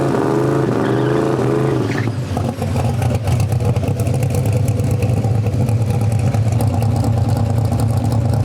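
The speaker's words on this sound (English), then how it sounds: "Fuel pump is cutting out." A drag race car engine at a Drop The Hammer event, its fuel pump cutting out, gives a loud steady rumbling drone with rough clattering pulses, close and continuous throughout, with no talking.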